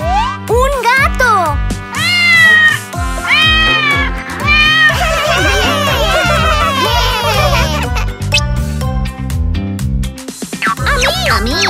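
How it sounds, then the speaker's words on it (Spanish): A cat meows repeatedly in short, high, bending calls over bright cartoon music, with children's voices chattering in between. "¡Un gato!"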